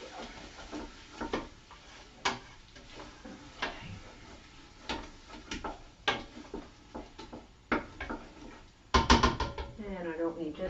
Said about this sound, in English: Stir it around, mix it in with the onions.